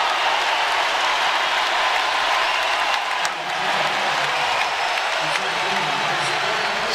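A rowdy crowd fills a college basketball arena during a Purdue versus Arkansas game, a loud, continuous roar of cheering and clapping lasting throughout, with commentators talking over it.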